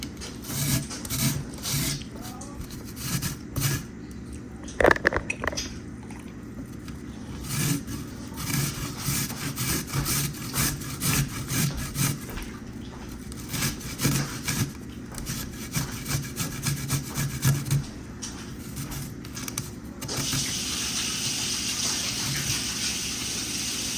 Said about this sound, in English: Now I need to grate the garlic.